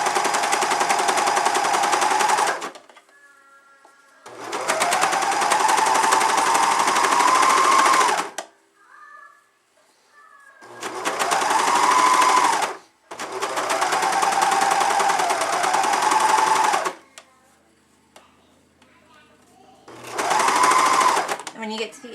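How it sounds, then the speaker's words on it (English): A serger stitches around the edge of a cloth diaper in loud, fast mechanical bursts, four or five runs of a few seconds each separated by brief pauses. "And just serge all the way around."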